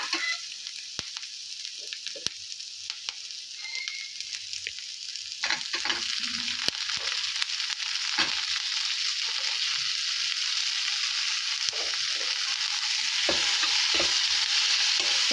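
Tomatoes fry for menthya soppina gojju in a hot pan, a steady close sizzle crackling throughout while a spoon scrapes and stirs in scattered knocks, the frying growing slightly louder toward the end.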